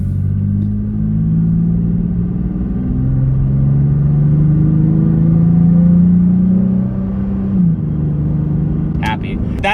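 Toyota Tacoma fitted with an aFe cold air intake pulls away under light acceleration, a steady low engine drone rising gradually in pitch over several seconds, then easing back, with a brief sharp noise near the end.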